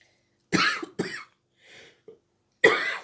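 A woman coughs in sharp, close bursts, two quick hacks followed after a pause by a softer throat sound and then one more forceful cough, in an otherwise quiet room.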